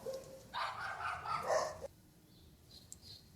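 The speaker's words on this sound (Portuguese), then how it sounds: "E os cachorros começaram a latir" Several dogs bark in a burst of loud, overlapping yips for about a second and a half, then stop, leaving quiet room tone with faint high chirps.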